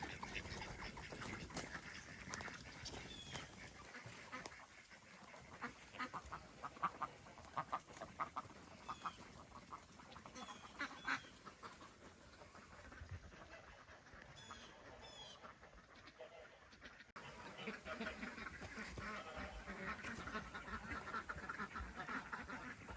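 Ducks quack on a farm on a clear fall day, a dense, busy chorus of calls running throughout at close to moderate distance, with a few louder bursts.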